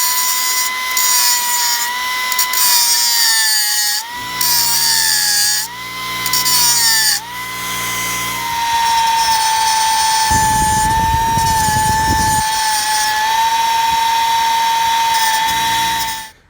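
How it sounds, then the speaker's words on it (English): An angle grinder with a grinding disc whines loudly and continuously while shaving the ears of Chevy Traverse rear brake pads, its pitch dipping as it bites into the metal, with a harsher rasping stretch of grinding. "my angle grinder with a grinding or cutting disc on it"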